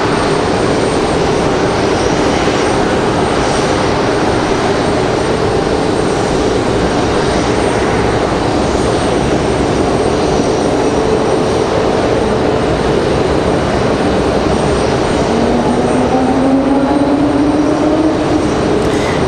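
An Airbus A319 arriving from Orlando taxis under its own power, its jet engines holding a loud, steady roar close by for the whole stretch, with a slowly rising tone near the end.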